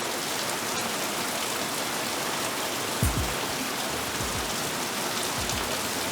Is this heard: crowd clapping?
no